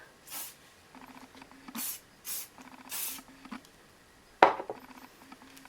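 Several short hissing bursts of aerosol spray, close by, separated by quiet pauses with faint rustling, ending in a sharp click or knock.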